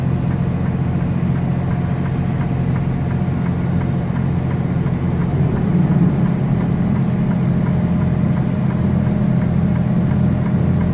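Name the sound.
Freightliner truck engine climbing a grade, engine fan on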